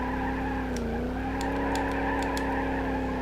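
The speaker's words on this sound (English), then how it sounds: "Like, I can kind of control the drift." Tires squeal steadily as a car drifts in BeamNG.drive, a continuous whining skid over a droning engine, with the pitch dipping briefly and then holding.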